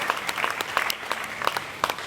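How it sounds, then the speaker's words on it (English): Audience clapping at the Tiger Island tiger show at Dreamworld, Australia, a steady round of applause from a crowd with sharp individual claps standing out, fairly loud and close. "How about another big round of applause?"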